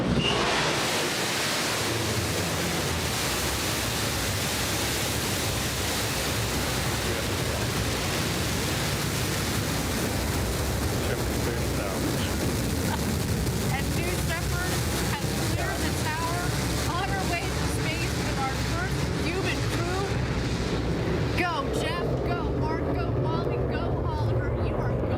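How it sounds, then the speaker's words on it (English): A broad, roaring rumble fills the air, loud and sustained like a distant rocket engine, with voices faintly talking beneath it: a Blue Origin rocket lifting off in 2021. "Blue Origin has begun its liftoff into space."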